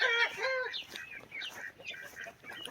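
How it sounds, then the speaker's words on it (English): Chicks and hens on a farm, the day before Memorial Day, peep and cluck in a busy, high-pitched chorus with a louder burst of calls at the start, then steady overlapping chirps at moderate distance. "Anyway, and I got the little chicks."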